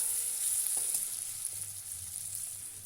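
Shutki dried fish masala with turmeric frying in a pan, a steady close hiss of oil with soft scraping stirs, continuous and fairly even throughout.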